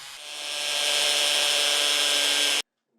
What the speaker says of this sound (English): the job will go much faster with a hammer drill that pounds as it rotates